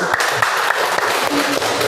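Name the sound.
applause for group 1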